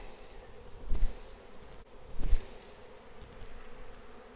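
Honey bees buzzing as they are shaken from a frame into a hive box during a walk-away split, a steady close hum with two soft thumps from the shaking.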